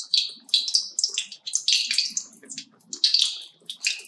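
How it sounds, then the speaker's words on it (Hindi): Tomatoes frying in hot oil for a tomato paneer kofta gravy, giving a bright, crackling sizzle that surges and fades in repeated bursts, close up and fairly loud with no voices. "आप देख रहे हैं कि आपका टमाटर उस तेल में फ्राई किया जा रहा है।"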